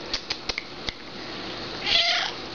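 A cat lets out one drawn-out meow near the end, preceded by a few soft taps and clicks; nearby and fairly clear.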